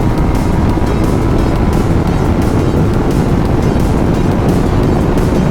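A Yamaha MT25 motorcycle ridden at high speed, heard as loud, constant roaring wind buffeting over steady engine and road noise with no pauses.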